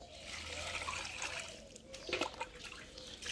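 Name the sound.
water running while washing a fish head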